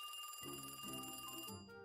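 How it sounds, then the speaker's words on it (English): Telephones ring in the video game The Case of the Golden Idol, a quiet, steady electronic bell trill heard alone over a soft, low musical background. "Phones are ringing."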